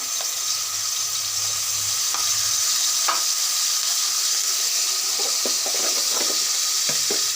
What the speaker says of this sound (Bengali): আমার তেল গরম হয়ে গিয়েছে আমি এক চামচ রসুন দিয়ে দিয়েছি দুই চামচ পেঁয়াজ বাটা